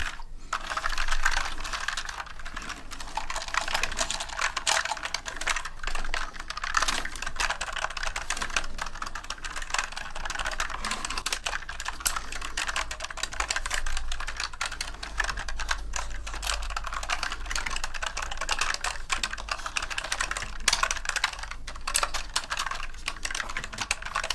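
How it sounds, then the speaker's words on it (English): Steady, continuous typing on an RGB mechanical gaming keyboard, with dense rapid key clacks running close and clear for the whole stretch and no talking. "this has all the amazing qualities that you expect from your RGB keyboard"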